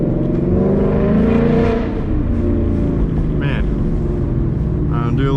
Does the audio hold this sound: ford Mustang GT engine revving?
yes